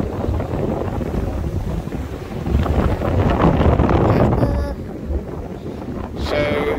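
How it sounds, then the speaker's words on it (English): Strong wind at a beach on Manasota Key, Englewood, buffets the microphone with loud, continuous rumbling gusts that swell and ease, nearly covering faint background surf. "But this wind is something else."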